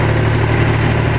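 A tractor engine idles steadily with a low, constant hum throughout, while a young girl sits at the wheel driving it on her own; no voices are heard.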